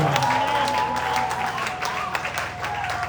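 Church congregation applauding together during a Sunday worship service in Kinshasa, a steady wash of clapping over a held tone, with a voice faintly present underneath.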